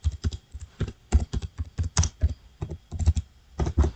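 Rapid, uneven keystrokes on a computer keyboard, close and fairly loud, come in short bursts as a phrase is typed into a search field, with no voices.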